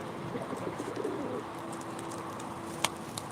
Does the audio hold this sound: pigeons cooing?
yes